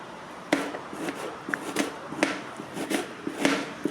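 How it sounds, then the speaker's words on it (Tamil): Sharp knife strikes through a large onion sliced lengthwise on a board, a steady series of crisp chops about two per second, close and moderately quiet with no talk. "பெரிய வெங்காயத்தை நம்ம கட் பண்ணிக்கலாம் நீள நீள வாக்கில் நம்ம கட் பண்ணிக்கலாம்"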